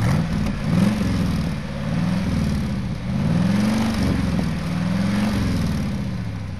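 A 1992 Corvette convertible's engine revs steadily, rising and falling in smooth pulls over a constant low rumble, close and loud, with no talking.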